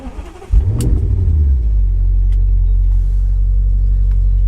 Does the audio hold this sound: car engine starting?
yes